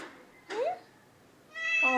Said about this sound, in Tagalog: that's the best meow of my eldest fur baby